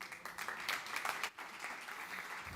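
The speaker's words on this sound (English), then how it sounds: "Big applause for Johannan." An audience applauds after a startup pitch at a Latin American and Caribbean innovation showcase, dense even clapping at moderate distance that briefly dips and then carries on steadily.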